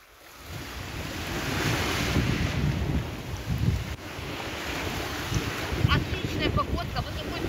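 Sea waves washing onto a beach at Kaş, a steady surf roar with wind buffeting the microphone, fairly near, and a person speaking briefly over it.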